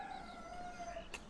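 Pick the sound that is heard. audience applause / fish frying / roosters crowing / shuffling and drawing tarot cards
roosters crowing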